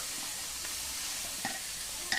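Mutton pieces frying in oil with ginger paste, dried red chillies and turmeric, a steady bright sizzle with occasional stirring scrapes and pops, no talking.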